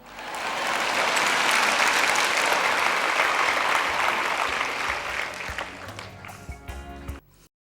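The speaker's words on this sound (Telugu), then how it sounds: "మీరు చప్పట్లు కొట్టొచ్చు కొట్టకపోయినా నిజం మాత్రం అదే" An audience at a church sermon bursts into applause. Dense clapping swells quickly, holds strongly for several seconds, then thins out into scattered claps and murmurs before cutting off.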